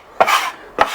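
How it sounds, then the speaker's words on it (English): Knife chopping rolled ingredients for green chile chicken chowder on a cutting board, two sharp, close chops roughly half a second apart with a brief scraping follow-through. "Give it a chop."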